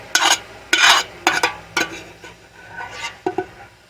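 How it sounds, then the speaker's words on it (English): A spoon scrapes home-canned cranberry sauce out of the crevices of a pan in a series of short, close scrapes and clinks, some quicker and some spaced apart, with no talking. "Pull down another spoon so I can get into the crevices of this pan"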